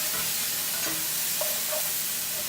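Masala frying and being stirred in a pan for Bangalore-style donne biryani, a steady sizzle with a few soft scraping stirs and light clinks, close up and without talk.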